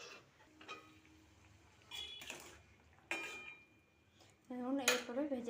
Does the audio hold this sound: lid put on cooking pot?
yes